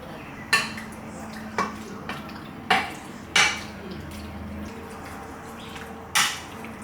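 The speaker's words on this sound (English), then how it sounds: "Crack in 1 egg and mix everything together." An egg mixed into raw chicken wings coated in flour, ahead of garlic deep-fried wings: several sharp clinks of utensil against a bowl, spaced irregularly, with soft stirring between them, close and fairly loud.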